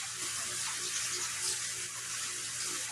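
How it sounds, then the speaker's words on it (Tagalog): Water runs steadily into a recycled plastic tub being turned into a small DIY pond, a continuous close rushing and splashing pour with no pauses and no talking. "Lalagyan po natin to ng tubig."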